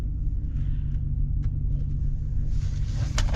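A 2025 Chevy Silverado Redline Edition V8 pickup rumbles as it pulls away, its low steady engine drone close and strong throughout, with no voices over it.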